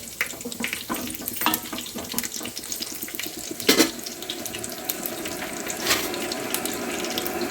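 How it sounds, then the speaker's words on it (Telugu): Water pours steadily into a cooking pot while making paneer biryani, a continuous splashing stream with a few clinks and a brief louder burst midway. "వాటర్ పోసేయండి"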